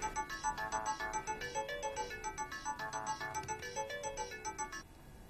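A mobile phone rings indoors with a repeating melodic electronic ringtone in a steady pulsing rhythm, moderately faint, cutting off near the end.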